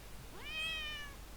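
One short cat meow used as a WeakAuras alert sound, a clear rising-then-falling mew lasting under a second over quiet background hum.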